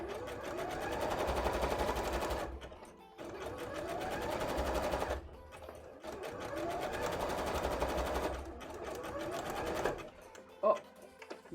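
A sewing machine stitches fabric for cosplay shorts in three long, steady runs of rapid needle chatter separated by brief pauses, close and clear, followed by a few short clicks.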